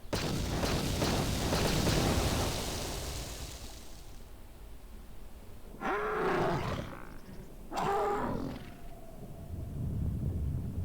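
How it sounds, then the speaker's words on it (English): In the game KotOR II, a permacrete detonator goes off with a loud, rumbling blast that fades out, followed by two short, sharp bursts of game sound and a low, swelling rumble. "That explosion has stirred many life forms in the area."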